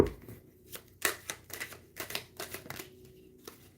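Tarot cards being shuffled by hand, a series of crisp riffling bursts and soft flicks in an irregular rhythm, close and fairly quiet with no talking.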